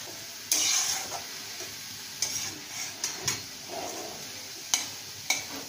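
A beetroot and chicken mixture being stirred and fried in a pan. Soft sizzling runs underneath, and a handful of distinct spatula scrapes and knocks sound close by.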